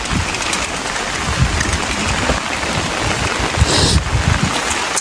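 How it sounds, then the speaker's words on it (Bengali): Heavy rain pours onto a road inside a market in a dense, loud, unbroken hiss of drops hitting the surface, with no voices. "প্রচুর পরিমাণে বৃষ্টি হচ্ছে, যার কারণে আমি ভিডিও করতে কষ্ট হচ্ছে আমার।"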